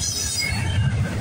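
CSX intermodal freight train I-117 passing at Bayview Road: steady loud rumble of rolling cars with high wheel squeal over it, close and continuous.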